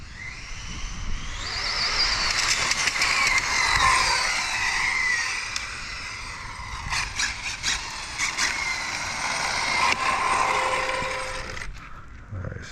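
An Exceed Mad Drift 1/8 scale RC car makes a speed run, its motor whining steadily and fairly loudly for several seconds, rising and then fading, with a few brief rattling clicks, and no voices.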